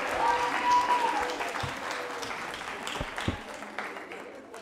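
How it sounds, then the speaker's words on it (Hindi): An audience at a college anniversary quiz show in Jaipur applauds a contestant, a dense, sustained clapping that stays loud throughout and fades a little toward the end. "प्रियंका के लिए जोरदार तालियां बजाइए"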